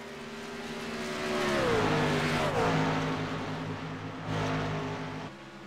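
A High Rev Motorsports race car at Kansas Motor Speedway revs hard near the start-finish line, its engine drone rising and falling in pitch as it burns out, loud and continuous.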